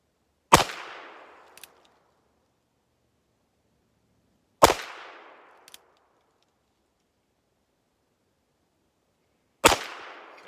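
Three sharp reports from a Ruger Wrangler revolver fired weak-handed at cans ring out outdoors, spaced about four to five seconds apart, each followed by a brief echo tail and a faint metallic ping.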